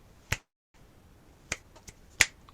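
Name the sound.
finger snapping imitating twigs snapping in a fire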